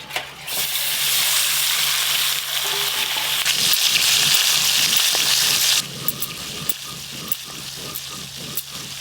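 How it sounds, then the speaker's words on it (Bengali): Small river fish fry in hot oil with a loud, dense, close-up sizzle. Partway through, the crackle thins into lighter popping and faint stirring scrapes. There is no talking. "এই যে এই মাছগুলো একবারেই সব ভাজা হয়ে যাবে।"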